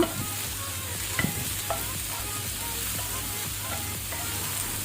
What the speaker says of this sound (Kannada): ಈಗ ನಾವು ಪುನಃ ಇದನ್ನು 1 ಮಿನಿಟ್ ಸಾಟೆ ಮಾಡುವ